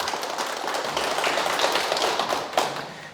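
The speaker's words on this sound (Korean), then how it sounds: "큰 박수 부탁드립니다" An audience at a lecture claps in a loud burst of applause, a dense, close patter that holds for about three seconds and then begins to fade.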